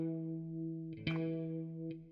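A sustained electric guitar chord with a shimmering BandLab jazz chorus effect, briefly restruck partway through, played alone and fairly quiet.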